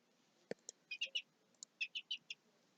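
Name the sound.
birds chirping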